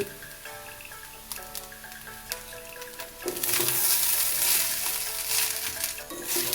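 Leftover rice with vegetables, eggs and ghee stir-fried in a pan, a continuous sizzle with scattered scraping strokes that swells louder and brighter halfway through, close and without talk.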